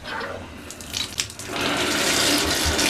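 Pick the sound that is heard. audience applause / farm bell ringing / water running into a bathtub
water running into a bathtub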